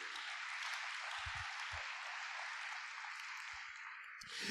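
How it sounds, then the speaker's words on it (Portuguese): A church congregation claps for Jesus in steady, broad applause at moderate distance, holding evenly before briefly swelling at the close. "Quem pode dar uma salva de palmas para o Senhor Jesus?"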